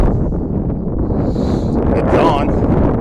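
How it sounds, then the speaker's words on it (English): Cold, gusty wind buffets an outdoor microphone in a cemetery, a loud, steady low rumble with rustling bursts that fills the whole stretch. "and it is cold out here today and windy."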